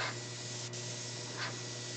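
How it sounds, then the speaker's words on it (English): A 4040 airbrush sprays a coat of paint for a wood grain effect, giving a continuous close, steady hiss of compressed air and paint with a faint low hum underneath. "I'm literally just spraying a good coat."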